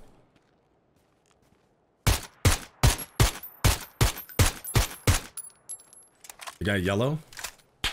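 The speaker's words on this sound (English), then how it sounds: "Those shots are at me." About a dozen sharp gunshots ring out in PUBG, a steady evenly spaced volley of near cracks that stops abruptly, followed by a brief voice.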